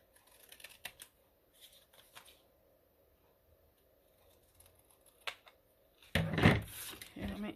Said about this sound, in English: So let me take my scissors and trim this down.